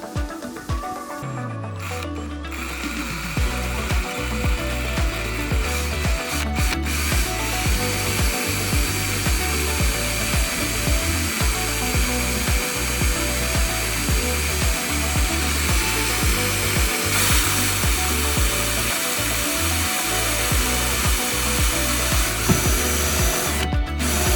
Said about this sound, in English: I was using a wood drill bit to try and go through the metal.